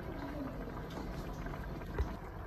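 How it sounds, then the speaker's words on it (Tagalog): Pot of ginataang tipalia, a coconut milk stew with pechay, bubbling on the stove, a quiet, steady simmer with faint gurgling and one small pop near the end, heard alone and close. "Kaya kumukulo na siya."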